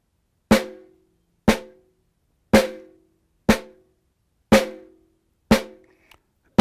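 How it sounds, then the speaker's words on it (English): Six crisp snare drum strokes, downstrokes alternating with upstrokes in a bucks exercise, land one per second, each a sharp close crack with a short ringing decay and silence between. "Now we're going to combine upstrokes and downstrokes together."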